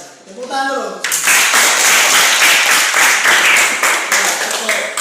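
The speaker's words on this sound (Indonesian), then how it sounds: "Tepuk tangan dulu." Schoolchildren in a classroom break into a burst of clapping after a brief spoken prompt at the start, the applause dense and sustained through the rest.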